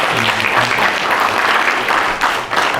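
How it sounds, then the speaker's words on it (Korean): Audience at a youth forum in Korea applauds steadily, a dense wash of clapping from a hall full of people that holds even throughout with a slight dip near the end. "박수 한번 주셔야죠."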